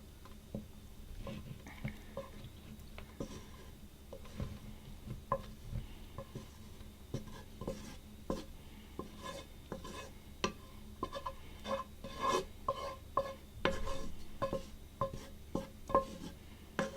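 A spoon stirs a frittata mix of eggs, cheese, chorizo and butternut squash in a frying pan, repeated scraping and soft squishy taps over a faint sizzle, close and steady for a long stretch.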